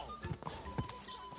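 A horse gallops in Kingdom Come: Deliverance II, with a few quick, soft hoofbeats thudding quietly for a brief moment.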